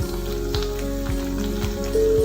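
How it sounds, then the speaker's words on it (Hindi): A methi paratha cooks in ghee on a pan over a low flame, giving a steady, loud close sizzle and frying crackle with a few faint scraping taps. "बस हम इस तरह करेंगे इसको ताकि जो घी है वो मेल्ट हो जाए"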